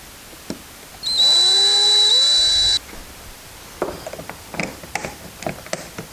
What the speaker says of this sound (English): now all we got to do is drill it